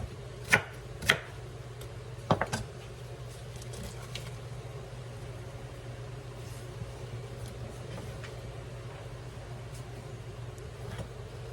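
A knife chops through cabbage on a board, with a few sharp, close cuts in the first seconds, then a long quiet stretch over a low steady hum.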